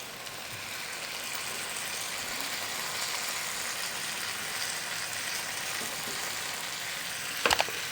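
Chicken pieces sizzle and fry steadily in a pan over a low flame, a close, even crackle that runs throughout, with a brief clatter near the end as the pieces are turned.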